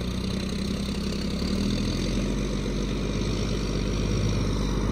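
A livestock-hauling semi truck stuck in the mud on a farm, its diesel engine running loud and close with a steady heavy drone that rises slightly as it is revved, with no talk over it.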